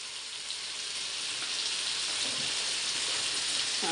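Tomatoes sautéing with a light sprinkle of salt in a hot pan give off a steady, close, hissing sizzle that holds evenly throughout, with no talk over it.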